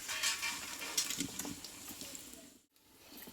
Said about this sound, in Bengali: খুব অল্প জালে কিন্তু পকোড়াগুলো ভাজা হচ্ছে